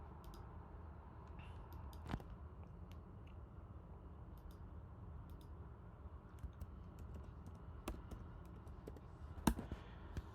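Steady typing on a computer keyboard while writing Python code, soft rapid key clicks with a few sharper taps, close and quiet with no talking.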